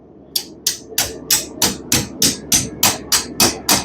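Eleven sharp metallic hammer strikes ring out at a steady, even rhythm, each a bright clanging ting, close and loud with no talking.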